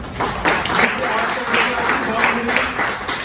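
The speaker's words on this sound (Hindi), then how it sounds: "एक बार ताली लगा दीजिए" An audience claps at a diamond celebration program in surging waves of applause that rise and fall, with a person speaking over the clapping.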